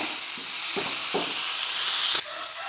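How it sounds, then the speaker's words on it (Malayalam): Steady sizzling of spices being sautéed in a hot pan for masala dosa filling, with a few soft scraping stirs, close and continuous, with no voices. "ഇതെല്ലാം കൂടെ നമുക്ക് ഇതിൻ്റെ പച്ച ചവ മാറുന്നത് വരെ ഒന്ന് ഇളക്കി വഴറ്റിയെടുക്കാം"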